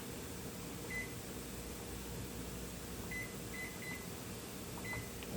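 An air fryer timer set to 8 minutes gives several short, faint electronic beeps, one alone and then a quick cluster, over a steady background hum.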